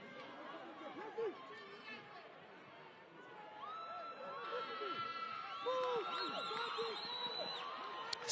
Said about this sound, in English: Sango getting the crowd excited.